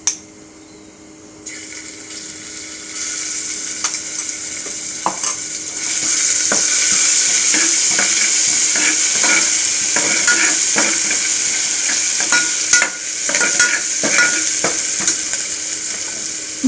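Cumin seeds and ginger-chilli paste sizzle loudly in hot oil, a steady hissing fry that swells after a few seconds, broken by scraping stirs and small pops, with no talking.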